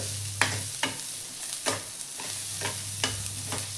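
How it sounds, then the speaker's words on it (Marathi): Onion and fresh coconut pieces roast together in a pan, with a steady sizzle broken by about eight rhythmic, sharp spatula scrapes, close up and with no speech. "ते पण चांगलं का ह्याच्यामध्ये एकत्र भाजून घेऊया, कांदा आणि ओलं खोबरं."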